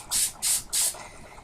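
Spray paint hisses from a can in three short, even bursts in quick succession while coating a scrying mirror, close and fairly loud with a faint background between sprays.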